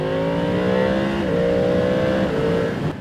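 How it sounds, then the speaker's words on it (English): A Yamaha MT-10 SP Gen 2 motorcycle engine accelerates hard, its pitch climbing through gear changes in a loud, close, continuous roar with no talking. "That sound is just addictive."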